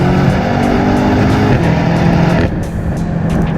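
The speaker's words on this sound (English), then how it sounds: "you got to do a couple downshifts, and you lay into it" A BMW M8 Competition engine roars hard and close as it accelerates after downshifts, holding a loud, steady note that drops slightly in level toward the end, with no voices.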